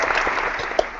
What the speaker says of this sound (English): Who's making those applause sound effects like that? It's the Google Hangout effect thing.